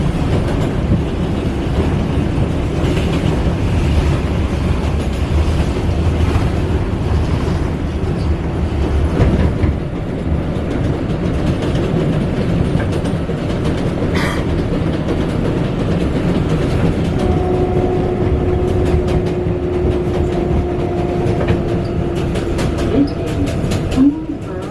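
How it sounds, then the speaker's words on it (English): A New York City subway train running from Flushing Main Street toward Grand Central, a loud steady rumble of wheels on track with clickety-clack, faint squeals and brief tones late in the ride. "and it's time to hop on the subway."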